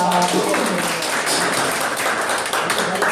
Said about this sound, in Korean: 어린이한테 박수 한번 주세요